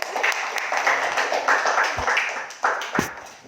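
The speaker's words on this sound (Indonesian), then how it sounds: "Tepuk tangan dulu untuk kelompok 1." Students clapping in a classroom for a group of classmates, a mix of scattered claps and taps under lively voices and background chatter, moderately close.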